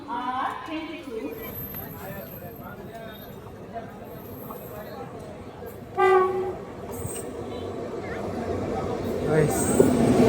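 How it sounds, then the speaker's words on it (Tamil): The Vrindavan Express entering the main line, heard from aboard a moving express train as a continuous rumble of rail noise with a horn sounding midway, while someone talks over it. "Vrindavan express main line என்ட்ரிங்க"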